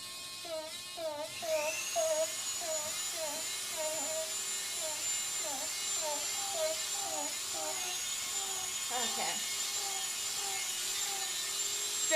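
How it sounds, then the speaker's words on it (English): A steady high-pitched power-tool whine, like a sander running continuously on a Ghostbusters proton pack prop, with a repeated chirping squeal pulsing over it up close. "sanding, the best part of prop making"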